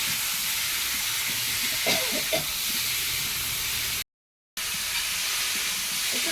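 Tomatoes fry with salt and turmeric in a pan, giving a constant close sizzling hiss with a few soft spatula scrapes and knocks near the middle, broken briefly by a short silent gap.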